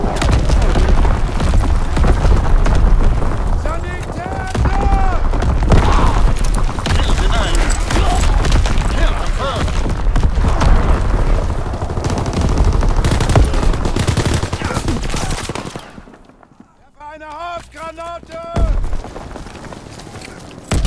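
Incoming enemy artillery and gunfire in a Call of Duty WW2 battle: dense, loud, continuous barrage of booms and shots with voices mixed in, briefly dropping away before blasts and chatter return.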